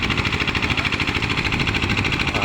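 Small solar-powered water pump engine running on a farm, a steady close rumbling idle with a fast regular pulsing throb, heard alone without talk.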